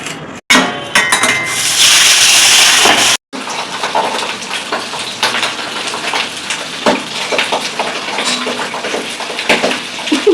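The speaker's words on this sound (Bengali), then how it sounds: "প্রচন্ড ফাটছে ভাই।" Pabda fish going into hot oil in a pan with the gas just turned off; a loud, dense burst of spattering and hissing is followed by steadier, lighter crackling.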